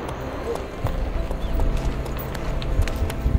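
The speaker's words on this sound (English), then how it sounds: "I feel like this is the true horseback riding experience." Horse hooves clip-clop steadily during a horseback ride in the Cocora Valley of the Colombian Andes, close and rhythmic with soft outdoor background, while people talk nearby.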